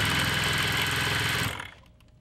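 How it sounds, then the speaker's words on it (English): Sewing machine chain piecing quilt fabric rectangles with a 1/4 inch foot, a steady close motor whir with rapid needle chatter running for about a second and a half before stopping abruptly. "So let's get to the sewing machine."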